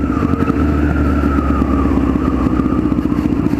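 A Honda Fireblade motorcycle engine drones steadily and loudly while being ridden, a continuous close engine note with a faint rising whine and no speech over it.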